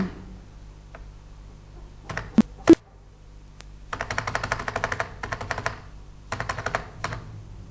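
Computer keyboard typing during accounting data entry in Tally, a few sharp isolated key taps followed by quick bursts of rapid clicking, close and clear with short gaps between runs.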